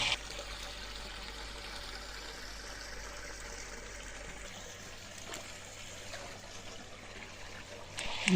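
A thin stream of water falls onto a Shiva lingam and runs on into a pool among surrounding hills, making a soft, steady trickle that carries on alone, faint and unbroken.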